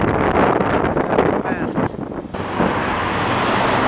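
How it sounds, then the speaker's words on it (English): Constant heavy wind buffeting a microphone, a loud rumbling roar that shifts in texture partway through, with no clear voices. "it's too windy though"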